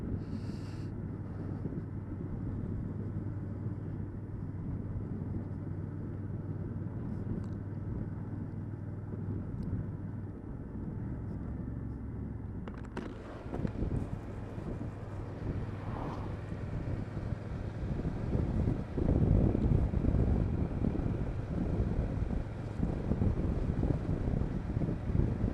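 Riding a Yamaha TDM 900 motorcycle: steady low engine drone under heavy buffeting wind noise, continuous throughout and growing louder and rougher in the final stretch.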